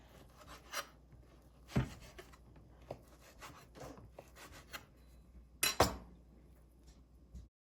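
A knife slicing pepperoni on a cutting board gives a few soft cuts and two sharper knocks against the board, close up and quiet, with no talking.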